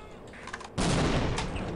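Grenade blasts in the Half-Life video game hit as one sudden loud, broad burst that cuts in partway through and holds a dense rumbling roar to the end, following a quieter stretch of faint game noise.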